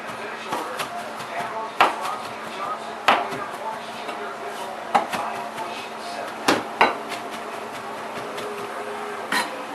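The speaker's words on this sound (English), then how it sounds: "Now I just got to chop it up." Kitchen knife chopping fresh parsley on a cutting board, with irregular sharp thuds and quick taps spread through the stretch, close and clear, while someone talks over it.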